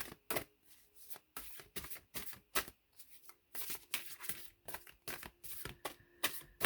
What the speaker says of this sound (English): They're asking me to cut the deck, so I'm going to do that here on camera, like always.